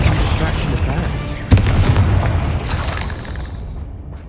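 A sharp blast from the Confringo fire spell booms out in Hogwarts Legacy and decays into a rumbling, crackling roar over several seconds.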